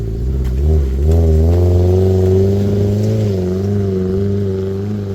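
A car engine revs and strains loudly and steadily while driving up a glacier at high altitude, short on power, its low droning harmonics rising and falling slightly throughout.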